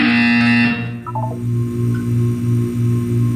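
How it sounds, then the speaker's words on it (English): A low, steady electronic buzz drones on in Portal 2, pulsing slightly, after a brief burst of brighter synthetic tones at the start. "You will hear a buzzer."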